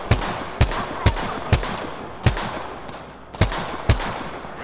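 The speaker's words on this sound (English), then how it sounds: "The enemies are shooting at me." Enemy gunfire in a shooter video game: about nine sharp, loud single shots at an uneven pace over a steady background hum, with no talking.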